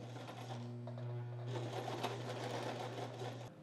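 A sewing machine stitches thick fabric with cardboard placed under the presser foot, its steady motor whirr running continuously and close throughout, with no talking.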